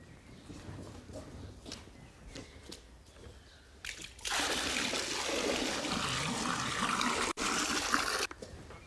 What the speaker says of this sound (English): Then we'll pour it evenly into the foot bath.